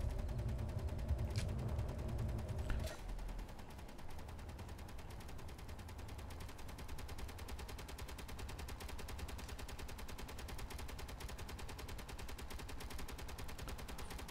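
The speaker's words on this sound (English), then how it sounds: "That interior turret's still going at it." An interior turret in Space Engineers fires steadily in a rapid, continuous mechanical stream. The shots carry on at moderate loudness for the whole stretch, after a brief low rumble at the start.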